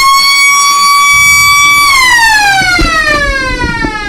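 A loud, steady siren at an Australian football match at Eastern Oval, Ballarat, wails continuously, holding one pitch before sliding downward as it winds down, sounding alone with faint background noise.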